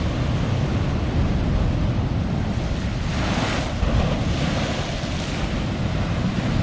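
Sea waves surge against the sea wall of a seaside promenade at Portixol, making a loud, continuous roar of surf and spray, heavily mixed with wind buffeting the microphone.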